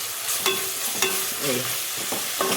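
Chicken fries with ginger garlic paste, coriander and mint in a pan, a spoon stirring with a few sharp scrapes and clinks against the vessel over a continuous close sizzle, with no talking.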